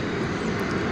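American Airlines Airbus A319 airliner inbound from Monterrey, Mexico, arriving at DFW Airport: a steady, broad jet engine roar, moderately distant and continuous, with no voices over it.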